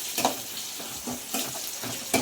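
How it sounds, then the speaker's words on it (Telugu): A hot tempering with curry leaves is poured into Nellore-style dal pulusu stew and crackles in short, uneven sizzling bursts up close, mixed with stirring. "ఇప్పుడు మనం పోపు వేసేసుకున్నాం పులుసులోకి"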